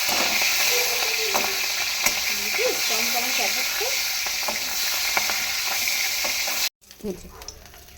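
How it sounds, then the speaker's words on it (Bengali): Fish fries in a pan with a loud, steady sizzle and crackle, a faint voice murmuring underneath, before the sound cuts off abruptly near the end and a quieter stretch follows. "এখানে আমার মাছ ভাজা কমপ্লিট, দিয়ে দিলাম মাছটা।"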